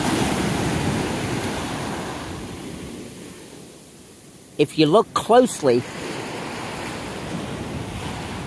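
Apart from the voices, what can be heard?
ocean waves and surf at Ocean City, Maryland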